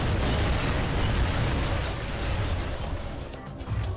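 A bomb goes off in the shooter video game Tower of Guns, giving a loud, broad, rumbling blast that fills the whole stretch and slowly fades over a few seconds.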